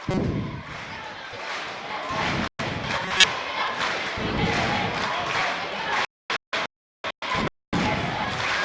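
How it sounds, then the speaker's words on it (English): At a high school girls basketball game in Kansas, a gym crowd roars and cheers steadily with thumps and bouncing from the court, with several abrupt dropouts in the sound. "The crowd's getting into it."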